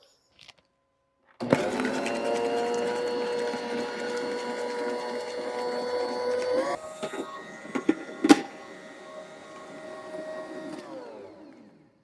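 An electric stand mixer starts up and runs steadily, beating butter, powdered sugar and strawberries with a constant motor whine, a few clunks and knocks near the end before it winds down; close and loud, with no talk.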